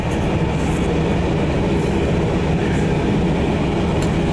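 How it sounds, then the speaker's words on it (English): Inside a locomotive-hauled passenger train in Holland, a steady loud rumble of wheels on rails fills the whole stretch, with faint rhythmic clatter and no voices. "I'm going to try and show you the locomotive that's pulling us in the reflection."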